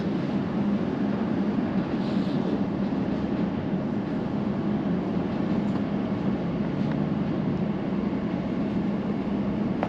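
A London Overground train pulls away from Romford station, a steady low rumble and rolling hum filling the cabin without a break, with no voices over it.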